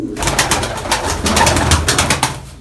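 A pigeon is released inside an underground breeding loft and claps its wings, a burst of rapid, loud flapping close to the listener with soft cooing mixed in.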